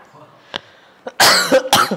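A few quick, harsh phlegmy coughs close up, ending in a rough, throaty burst after a couple of faint small sounds.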